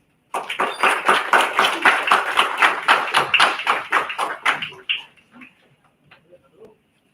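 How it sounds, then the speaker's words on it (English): Rhythmic clapping welcomes a guest at an international student film festival at Techno India University. The claps are evenly paced and fairly close, and they fade out after about five seconds into near silence. "With a huge round of applause, please welcome Mr. Manoj Michigan."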